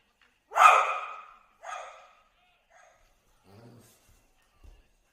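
A dog barks at a youth baseball game, one loud close bark followed by a shorter second bark, then faint low sounds and quiet breaths in a mostly still pause.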